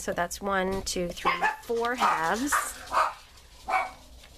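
Several dogs barking and yipping close by in a home, short sharp barks in quick bursts, mixed with a person talking over them.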